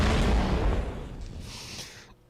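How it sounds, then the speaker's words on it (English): A game explosion effect from the New Star GP racing game: a loud, broad boom that hits at once, then fades over about two seconds before a short tail. No voices are heard. "Okay, prepare for the explosion sound."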